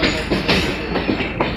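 Sarmiento Railway train on the Merlo–Lobos branch pulling out of Merlo station in Buenos Aires province, a steady loud rumble with rhythmic clickety-clack wheel beats close by.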